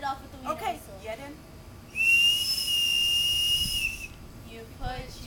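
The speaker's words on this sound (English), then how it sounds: "Here we go with our wiener whistle." A novelty wiener whistle gives a shrill, steady blast for about two seconds, high and piercing, at a pierogi festival, with brief voices and movement before and after it.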